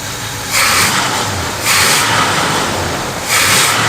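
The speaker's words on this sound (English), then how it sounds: "So when I rev that," A Chevrolet C10 pickup's engine revs up repeatedly in three loud, broad bursts, each lasting about a second, with steadier running in between and no talking.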